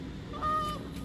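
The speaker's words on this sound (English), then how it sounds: "Here's some geese that all came into the spread" Geese flying in over a decoy spread during hunting season, giving a single short honk at middle distance against steady outdoor background noise.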